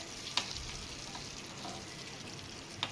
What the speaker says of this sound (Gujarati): પછી આપણે એને હલાવી નાખવાનું છે